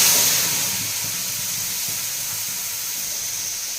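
Whole spices, cinnamon, cardamom and cloves, with masala frying in hot mustard oil, a steady close hissing sizzle that is loudest at the start and then settles into an even crackling hiss, no voices.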